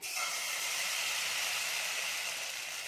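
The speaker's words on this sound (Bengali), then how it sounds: "এবার আমি এর মধ্যে কিন্তু বেটারটা দিয়ে দিচ্ছি" Semolina batter hitting an oiled hot tawa gives a loud, continuous hiss that holds steady the whole time, with no voices over it.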